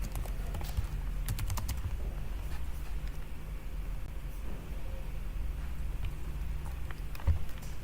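Nearby computer keyboard keys clack in quick irregular bursts and single presses as vim and git commands are entered, over a low steady background hum, with no speech.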